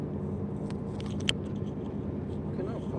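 Steady, loud low road rumble from inside a truck cruising a highway through Iowa in rough weather, a continuous drone with faint voice-like sounds underneath.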